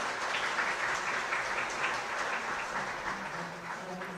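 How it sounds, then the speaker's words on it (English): Audience applause at the opening ceremony of the Seoul International Biomedical Conference as Seoul's mayor, the conference host, is introduced; steady, dense clapping from a large seated crowd, held at an even moderate level throughout without speech. "please give them a big round of applause"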